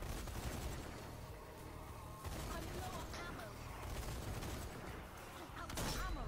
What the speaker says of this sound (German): Erstmal alles wieder schießen.